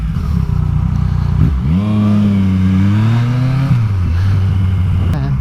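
A motorcycle, likely a KTM Super Duke, rides close through Los Angeles streets with a rumbling engine that revs up and holds, then eases off, loud and continuous.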